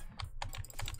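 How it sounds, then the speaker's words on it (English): A dog rubbing against a computer keyboard sets off a quick, uneven run of soft key clicks and clacks, close and fairly quiet. "You can't rub my keyboard"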